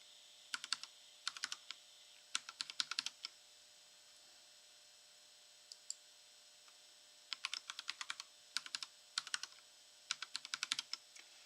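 Fingers tap out bursts of keystrokes on a computer keyboard while entering a password during a Debian-based Linux install, quick clustered clicks separated by short pauses over a faint steady hum, with no talking.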